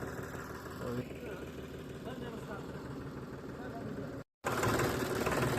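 A farm tractor engine runs steadily nearby after its trolley is unhitched in a field, a continuous rumbling drone that cuts out briefly near the end before resuming, with someone talking over it.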